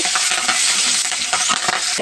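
Shrimp with turmeric and fresh green chilies sizzle in a wok while a utensil scrapes and stirs briskly, a loud close crackling hiss throughout.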